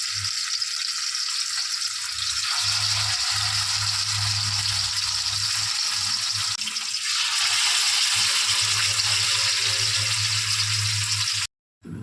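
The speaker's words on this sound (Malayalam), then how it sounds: "ഇനി ഓരോന്നായിട്ട് നമുക്കിത് ഇട്ട് കൊടുത്ത് പാകത്തിനൊന്ന് വറുത്തെടുക്കാം" Green pepper–marinated fish pieces fry in hot oil, a loud, continuous close sizzle that swells midway as more pieces go in, over a low hum, before cutting off briefly at the end.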